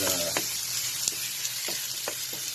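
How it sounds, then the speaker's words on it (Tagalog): Onions sizzle steadily in hot olive oil in a pan with garlic and baby squid, a dense close frying hiss punctuated by a few soft stirring clicks. "So now I'm going to add the onions."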